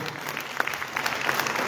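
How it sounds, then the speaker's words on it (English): Audience applause at a public administration multi-stakeholder consultation, a steady wash of many hands clapping in a hall, moderately loud and continuous with no talk over it. "Let us give him another round of applause"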